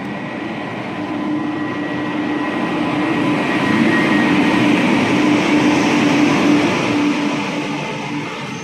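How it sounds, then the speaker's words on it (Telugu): The Golconda Express pulls into a station platform with a steady, loud rolling rumble and a faint continuous hum, swelling slightly as it comes closer, with no voices. "ప్లాట్ఫామ్ 4 దగ్గరికి ఒక ట్రైన్ వస్తుంది."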